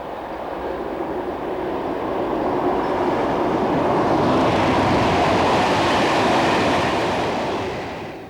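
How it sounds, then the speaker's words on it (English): A stone freight train from Penmaen passes the site of an old station at Prestatyn, a loud rolling rumble of wagons that swells and holds before easing away at the end. "A stone train from Penman passes the site of the original station."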